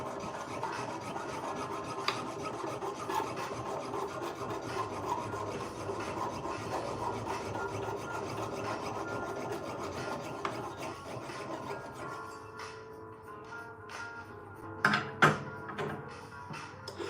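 A jeweller's saw cuts through sterling silver for T-bar pendants in rapid, rasping back-and-forth strokes that run continuously, then give way to a few clicks and knocks of handling near the end.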